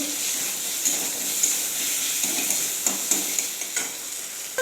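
Potatoes, onion and vegetables fry with dried red chilli and cumin while a spoon stirs them. A steady sizzle runs under several sharp scraping strokes, close and fairly loud, with no talking.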